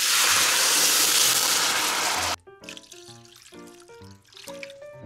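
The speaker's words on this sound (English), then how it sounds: "then we're gonna throw in some Georgia sink water" Sink water pours into a pan holding sea bream fish for about two seconds, a loud steady rushing stream, and then it gives way to quieter bubbling and clinking.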